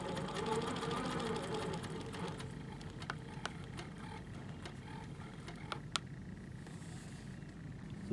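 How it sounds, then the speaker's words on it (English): Quilting sewing machine stitching steadily across a quilt seam, a dense continuous mechanical whir with fine rapid needle pulsing, near and loud, interspersed with a few faint clicks, no voices. "now I'm going to sew across"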